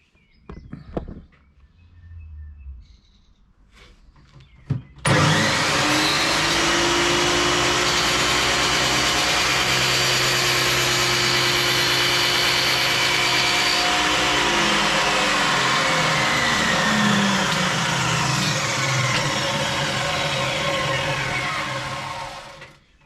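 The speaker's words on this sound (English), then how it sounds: "to the miter saw now, and we'll cut this on the miter." A miter saw spins up after a few quiet shuffles and a click, then roars loudly and steadily as it cuts a wooden piece for a shot glass storage box, winding down at the very end.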